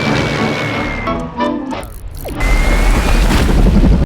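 A bomb explodes on a house in a wartime film scene, a deep booming blast followed by a loud, sustained rumble and crashing debris after a brief lull.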